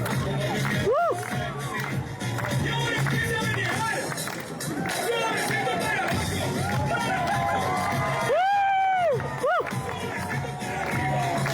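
A lively crowd cheers and shouts with excited, high-pitched whoops and children's voices over a constant rumble of clapping and commotion, a few sharp shouts rising above the din.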